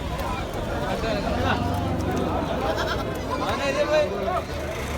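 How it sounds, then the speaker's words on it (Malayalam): Goats and kids bleat amid the busy crowd noise of a festival livestock market in Kerala, scattered calls rising over constant chatter and milling sounds. "ഈ കാണുന്നൊക്കെ വളർത്താൻ പറ്റിയ ആടുകളാണ് ചെറിയ ചെറിയ ആടുകൾ ഒരുപാടുണ്ട്"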